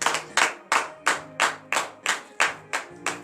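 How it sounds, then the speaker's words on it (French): A congregation at a morning prayer service in Comè, Benin, claps in a steady, even rhythm of loud, sharp beats close up, with no talking. "Donnez de vive acclamation."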